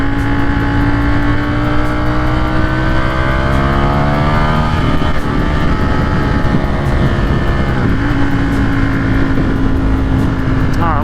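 Ducati Streetfighter with Gilles Tooling rearsets, riding at high revs: a continuous, loud engine drone with pitch that rises and falls through gear changes, steady throughout.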